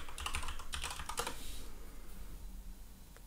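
Quick bursts of typing on a computer keyboard, close and clear, with rapid key clicks for about a second and a half before the sound fades to quiet room noise.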